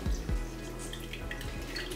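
Syrupy liquid drips from squeezed marmalade fruit pulp, a few soft drips and wet splats close by.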